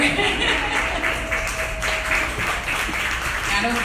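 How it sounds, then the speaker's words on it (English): An audience claps after a raffle draw at an author's hosted event, a short burst of applause mixed with talking and cheering voices nearby. "Round of applause, support."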